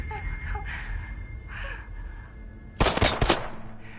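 Gunfire in a PS4 horror video game: a brief, loud burst of a few rapid shots breaks in after quieter game voices and ambience.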